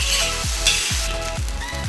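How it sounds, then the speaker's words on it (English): Fried rice with Spam sizzles loudly in a hot pan, a dense continuous frying hiss with repeated scraping stirs of the utensil, close and without talk. "Lower the fire a little bit, so the rice you can just cook like that."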